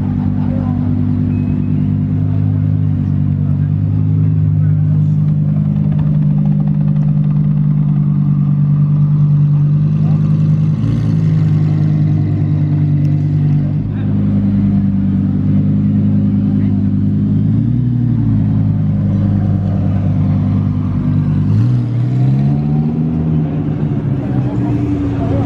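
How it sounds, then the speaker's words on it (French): A Lamborghini Huracan Evo in Corsa mode idles with a deep, steady engine rumble close by, its revs rising and swelling near the end, while people talk over it. "Je crois qu'il l'a mis en mode Corsa là, parce qu'elle vient de monter dans le régime."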